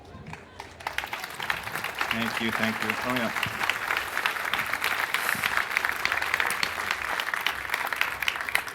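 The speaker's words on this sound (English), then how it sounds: "A warm welcome and a big applause for our speaker." Sustained audience applause at a 38C3 Chaos Communication Congress talk, a dense, steady clatter of many hands lasting several seconds, with a brief voice speaking near the start.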